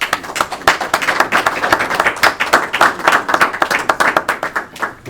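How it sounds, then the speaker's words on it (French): Lively audience applause at a Congolese community election meeting, brisk rhythmic hand clapping from a small crowd, loud and close, sustained throughout with a slight rise and fall. "Applaudissons le président, s'il vous plaît."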